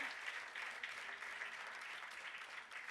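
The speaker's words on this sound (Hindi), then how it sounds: "जोरदार तालियां बजती रहनी चाहिए" Steady, dense audience applause fills the hall at a Mumbai Pyramid Spiritual Society event on spirituality and meditation, holding at an even, continuous level for the full stretch with no clear voices on top.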